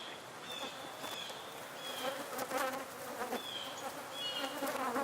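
Honeybees (Apis mellifera) buzzing steadily as they visit flowers in a wild outdoor area, a close, continuous insect hum that swells and fades as individual bees pass near.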